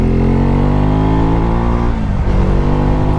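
A Husqvarna Svartpilen 401 motorcycle engine runs loud and close at steady revs, with a clear dip and change in engine note as it shifts gears without a quickshifter.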